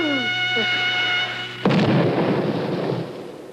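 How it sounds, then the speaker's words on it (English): A sudden loud crack of thunder from a thunderstorm breaks in and rolls into a broad rumbling roar, following a steady tonal hum. "That thunderstorm's been on our trail since Washington."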